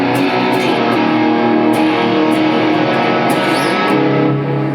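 Thick, sustained electric guitar with heavy amp distortion, chords ringing continuously at a steady, loud level with no pauses.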